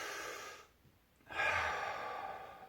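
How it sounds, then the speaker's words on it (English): One deep breath drawn in during a stretching move for a stiff spot: a short exhale fades to a pause, then a long, close, airy inhale swells and holds steady. "we basically want to take a deep breath in"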